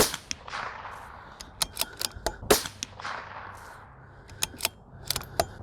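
Sharp cracks from a CZ 457 Varmint rifle fired at steel targets outdoors, a scattered series of brief reports of varying loudness over a low background.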